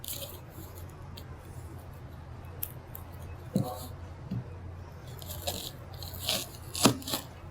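A knife cutting food down the center, a few quiet crunchy cuts and scrapes spaced irregularly against a faint steady background hum, close but soft, with a voice talking over parts of it.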